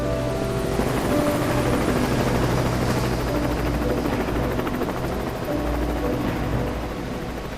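Helicopter in a video game flying steadily overhead, a loud continuous rotor thrum and engine whine filling the scene with no pauses.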